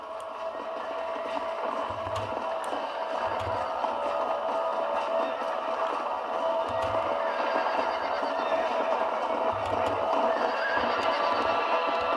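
A horse in Red Dead Redemption neighs and whinnies loudly and close, with repeated low thumps of hooves underneath, over a steady outdoor game ambience lasting the whole stretch.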